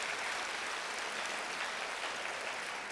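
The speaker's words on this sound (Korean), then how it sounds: "박수 부탁드립니다." A concert audience at an outdoor autumn jazz concert applauds, a dense, even wash of clapping sustained throughout without talk.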